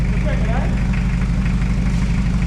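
An old Holden VT Commodore engine runs at idle, a loud, close, continuous low rumble that holds steady from start to finish.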